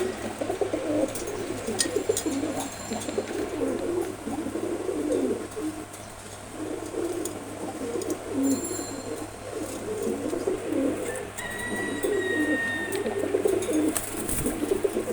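Pigeons coo in low, repeated throaty calls, with occasional sharper chirps and bird calls scattered over a steady background.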